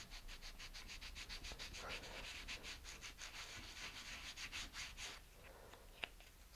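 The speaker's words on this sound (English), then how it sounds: "the sanding block I have at a very slight angle, so that I can, so I'm not sanding flat across the whole thing" A sanding block held at a slight angle rubs back and forth along the edge of a wooden competition rocket fin, airfoiling it in a steady, close run of rasping strokes that stops near the end.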